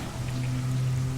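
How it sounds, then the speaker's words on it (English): Steady rain falling in the STALKER Call of The Zone game, a dense even hiss with a low persistent hum beneath, no voices. "It's raining."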